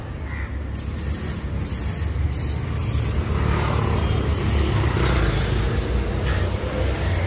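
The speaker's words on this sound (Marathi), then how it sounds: "खूपच स्प्रे खरंच आहे" Aerosol spray discharged inside a car to drive out a rat, a continuous loud hiss that holds steady for several seconds with a faint background rumble and no speech.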